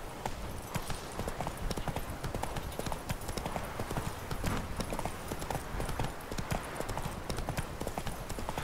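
Horse hooves clip-clop steadily and continuously in The Witcher 3: Wild Hunt, a close, busy rhythm of hoofbeats over game ambience, with a faint whinny possible and no talk.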